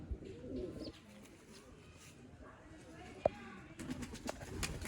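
Pigeons, Sialkoti and Teddy breeds kept for sale in a loft setup, coo softly and low in repeated murmurs under steady background noise, with a sharp click partway through.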